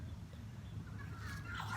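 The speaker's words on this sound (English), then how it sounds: "This is the chicken with the funny comb." A pet chicken with an unusual comb gives a short, faint call near the end, heard over a steady low background hum.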